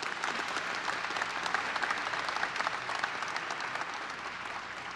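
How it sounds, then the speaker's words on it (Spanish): A debate audience in Querétaro applauds at length, a dense, steady wash of many hands clapping at moderate distance, with no talk over it. "Les agradezco mucho el tema de los aplausos."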